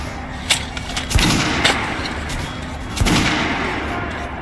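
Gunfire at a shooting range in the video game Metro: Last Light, several loud, sharp shots spaced about a second apart over a rumbling room tone.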